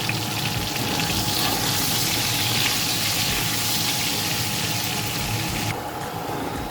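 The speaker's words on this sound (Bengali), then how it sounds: "আলুটাকে আমি ভালো করে ভেজে নেব" Potatoes with a pinch of turmeric fry in hot oil, giving a steady, dense sizzle that runs loud and close and then eases slightly near the end, with no voices.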